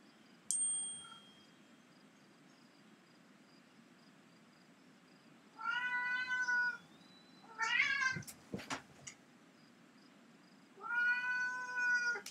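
A cat meows three separate times, each call fairly short and clear with pauses between, heard alone against a quiet background in a golf course design game session.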